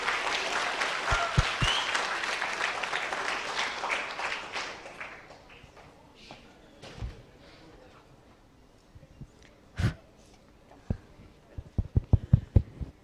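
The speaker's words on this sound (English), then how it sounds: "Can we give them a huge round of applause?" An audience at a youth climate-action session applauds presenters coming on stage. Full applause fades over the first several seconds into scattered, isolated claps, with a few sharp single claps near the end.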